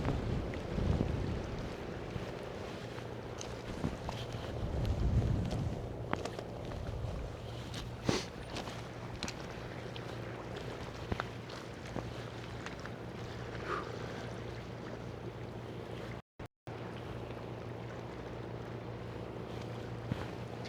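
Wind gusts buffet the microphone at a dock in Old Harbor, Alaska, during a storm, with low rumbling bursts, faint boat and water sounds, and intermittent clicks over a quiet background.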